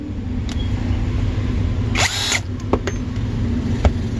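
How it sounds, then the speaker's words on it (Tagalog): A TANZU brushless cordless drill runs with a steady motor hum, and a brief, sharper whirring burst rises near the middle, followed by a few light clicks. "Kung magbabarena ka naman, lagay mo lang syempre sa drill."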